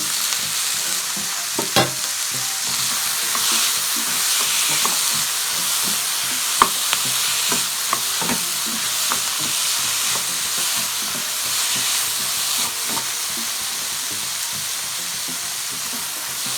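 Blanched sweet corn and cooked kidney beans are stirred in a frying pan for Mexican rice, with a steady, close sizzle broken by frequent spatula scrapes and taps throughout.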